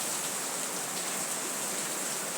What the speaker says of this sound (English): So I'm just sitting down here and enjoying the rain